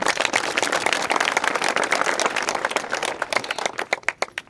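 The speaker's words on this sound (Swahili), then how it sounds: "So tupige makofi tena tafadhali." An audience claps at an academic gathering, with dense applause that holds steady before thinning into a few scattered, separate claps at the end.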